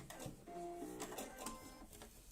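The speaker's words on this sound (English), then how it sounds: "So I'm just doing a little bit of top stitching." A sewing machine runs steadily, top stitching a fabric cutlery pouch, its rapid mechanical whirr and tapping continuing close and clear for a couple of seconds with no voices.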